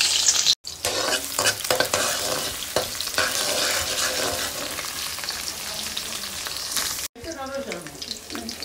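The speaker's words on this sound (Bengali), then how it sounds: "তেলে পেঁয়াজ আর রসুন দিয়ে দিলাম।" Onion and garlic frying in hot oil for tuna pasta, with a loud steady sizzle and repeated scraping stirs that carry on nearly throughout, broken by two brief cuts.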